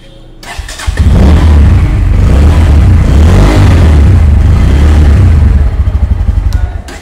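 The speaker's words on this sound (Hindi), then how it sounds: "आपको इन दोनों का एग्जॉस्ट साउंड सुनाता हूँ।" Bajaj Pulsar motorcycle exhaust, an NS160 or N160 compared side by side: the engine starts and settles into a loud, close, steady idle with a deep, thumping rumble, with no talking.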